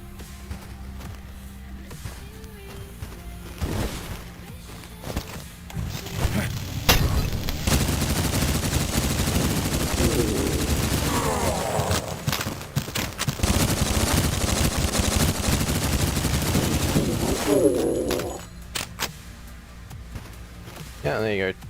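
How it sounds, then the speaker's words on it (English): A stock Sten submachine gun in the video game Cultic fires in dense sustained automatic bursts for about ten seconds, loud and close, with voices talking alongside. "2 mags of stock Sten takes out one of those guys."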